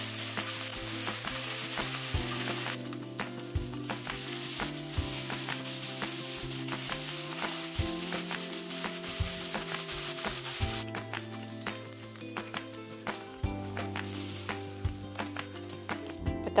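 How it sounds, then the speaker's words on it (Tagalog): Oil sizzles and spatters steadily as galunggong (round scad) fries in a pan, a continuous crackling hiss with occasional scraping, moderately quiet and close. "Ngayon sa kawali, ipiprito natin ang galunggong."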